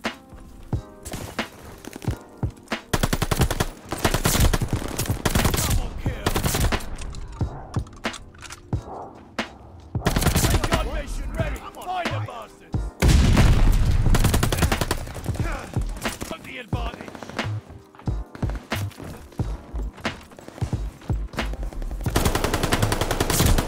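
MP40 submachine gun fire in Call of Duty: Vanguard, with dense bursts of automatic gunfire that run through most of the stretch. A loud sustained volley comes near the middle, set among other game effects.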